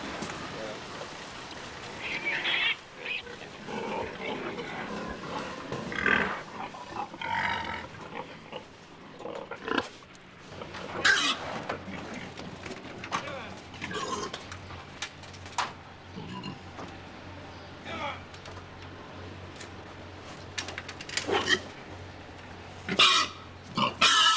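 Pigs grunting and snorting on a farm raising hogs for slaughter, irregular bursts near and far over low rumbling, with people talking at times.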